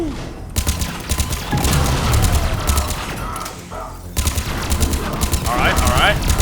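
Rapid gunfire from an SMG and a rifle in the video game Mass Effect Legendary Edition, dense bursts running almost continuously under a talking voice, with a brief lull midway.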